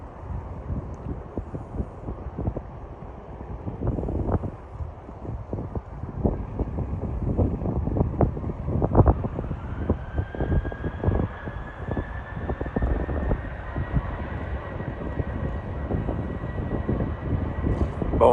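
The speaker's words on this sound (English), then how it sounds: "That wind is really blowing now, man." Strong gusty wind buffeting the microphone at San Antonio International Airport, a steady low rumble and roar with a jet engine whine rising in the background.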